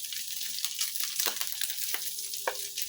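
Meat frying in its own rendered fat in a pan, a steady close sizzle with a few stirring scrapes and small clinks, no talking.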